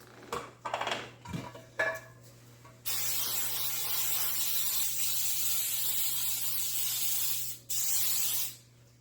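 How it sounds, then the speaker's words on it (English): A few clinks of a 9x13 baking pan, then a long steady hiss of an aerosol cooking spray, a brief pause, and one more short spray. "This is just a cooking spray."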